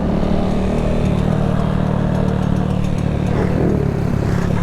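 A Honda Grom mini bike engine runs steadily while riding, a constant loud mid-pitched drone with wind rumble, heard close throughout without clear revving changes.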